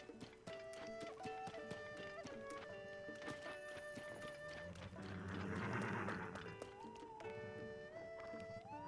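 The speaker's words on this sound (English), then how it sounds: "Oh, it was the horse." Horse in the video game Zelda: Tears of the Kingdom, hooves clip-clopping at a run for a few seconds amid game music and effects, fairly close.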